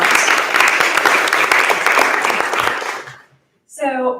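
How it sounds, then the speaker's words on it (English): Audience applause for event organizers at a fireside chat with an author and a planning commissioner, a loud, dense burst of clapping lasting about three seconds before fading out, then a voice begins speaking. "just raise your hand real quickly so we can give you applause"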